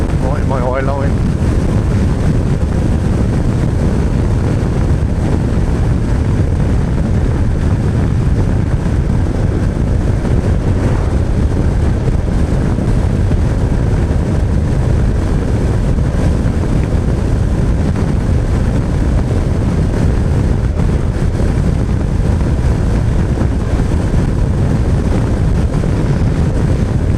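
Steady, loud wind roar buffets the microphone while riding a Honda NC750X motorcycle at around 60 on a country road toward Bala Lake, a dense low rumble filling the whole stretch without break.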